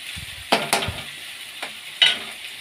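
Onions frying in oil in a pan, a soft steady sizzle broken by a few sharp stirring scrapes and clatters near the mic, no voices.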